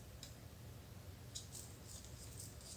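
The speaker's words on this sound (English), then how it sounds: "you're going to take your scissors, cut that extra off, and then you can take your scissors to cut" Scissors snip through paper while cutting snowflake shapes, a few faint, brief crisp clicks over low room hum.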